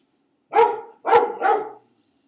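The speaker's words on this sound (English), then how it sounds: "I have a dog. He just barked." A dog barks three times close up, one sharp bark followed by two in quick succession, with quiet background between them and no talking.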